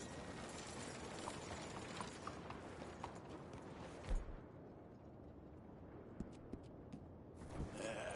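Horse hooves clop in an uneven walking rhythm in Red Dead Redemption 2, mixed with creaking, rattling tack and a steady background wash.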